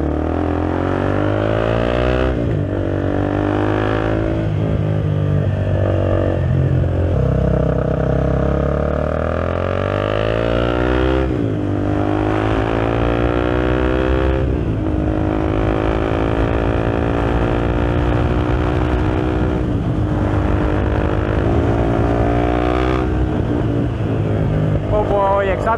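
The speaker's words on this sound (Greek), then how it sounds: "Όπου η εξάτμιση ουρλιάζει πραγματικά στο τερμακάλι και στις πολλές τροφές. Κάνει ωραίο ήχο, κάνει φασαρία" KTM Duke 390 motorcycle with a BlackWidow exhaust riding uphill on a mountain road, a loud continuous engine drone rising and falling through the gears, with a rider talking over it.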